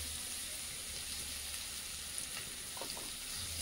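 Spice masala frying in a pan over a clay stove, a soft continuous sizzle with light crackle, fairly quiet and steady, with a few faint knocks near the end.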